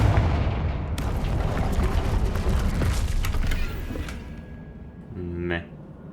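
A Confringo blasting spell explodes in the video game Hogwarts Legacy, giving a loud, rumbling boom with crackling debris that fades out after a few seconds, followed by a short tonal magical chime.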